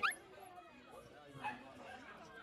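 A red Siberian husky at a breeder's place gives a sharp bark at the start and a brief whimpering yip midway, fairly faint and close, over a quiet, slightly noisy background.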